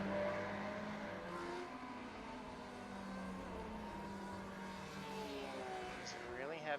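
A Ferrari GTE race car engine in iRacing at Laguna Seca, a faint, steady drone with rising and falling revs and a quick upshift sweep near the end, heard under a commentator's talk.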